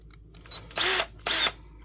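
A power drill holding a knife pivot screw in its chuck spins up in two short, loud whirring bursts, each with a rising motor whine, after a faint click.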